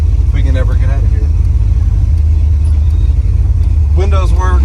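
A 1990 Chevrolet 454 SS pickup with upgraded heads and cam, fuel injection and 3-inch exhaust pulls at half throttle, a steady low rumbling engine drone heard from inside the cab while someone talks briefly at the start and near the end.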